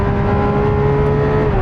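Lamborghini Aventador SVJ engine at high, steady revs during a quarter-mile acceleration run, a loud continuous roar with a strong harmonic whine throughout, heard alone without talk.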